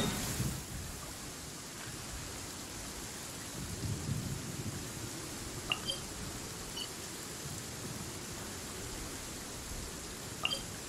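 Steady rainfall hisses throughout a stormy scene in Genshin Impact, with low rumbles of thunder rolling in and a few brief sharp crackles near the end.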